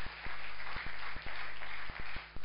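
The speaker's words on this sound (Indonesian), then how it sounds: "Berikan tepuk tangan yang meriah." Audience applause at a live church service in Gorontalo, a dense wash of clapping with repeated low thumps pulsing through it, steady and moderately loud for a couple of seconds.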